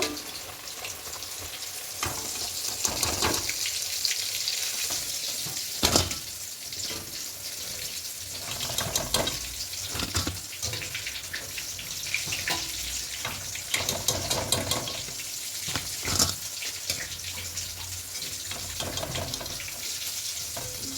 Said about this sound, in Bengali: উল্টে পাল্টে লাল লাল করে ভেজে নেব